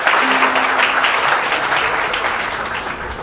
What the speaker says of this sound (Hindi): हरीश सर के लिए भी आप लोग जोरदार तालियां बजाइए प्लीज